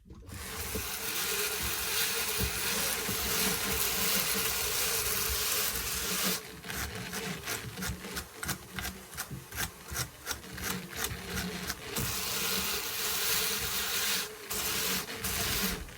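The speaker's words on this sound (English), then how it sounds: "I'm just going to get my carder and give this a bit of a pack down" A hand carder packs down a wool fibre art batt, a dense close scratchy brushing that runs steadily, then breaks into a quick series of short rhythmic strokes before resuming the continuous rasp, no talking.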